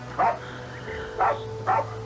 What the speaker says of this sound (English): Stop barking now.